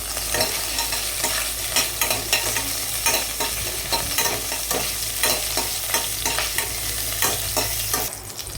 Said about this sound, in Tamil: எண்ணெய் நல்லா பொரிஞ்சதுக்கப்புறம் எல்லாத்தையுமே நீங்கள் இதில் போட்டுக்கோங்க